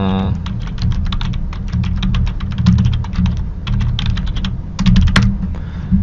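A command being typed into the Windows command prompt on a computer keyboard: rapid, close key clicks in irregular bursts with brief pauses, ending in a slightly heavier keystroke.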